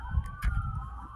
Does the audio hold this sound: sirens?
yes